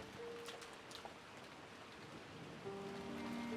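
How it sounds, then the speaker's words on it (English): Steady rain falls in a visual novel scene, a continuous hiss of drops on a surface that holds an even level throughout, with faint tonal sounds drifting over it and no voices. "listening to the sound of the rain"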